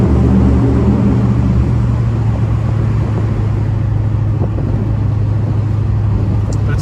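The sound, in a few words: 1970 Ford Mustang 302 convertible driving on test drive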